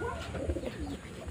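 A pigeon coos softly close by, a short low throaty call lasting about a second.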